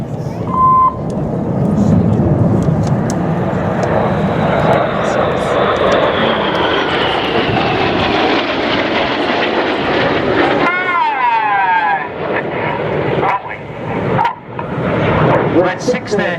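RAF Red Arrows jets roaring overhead in inverted mirror formation at an air show, a loud sustained engine rumble that sweeps past and fades, followed by crowd noise and faint commentary.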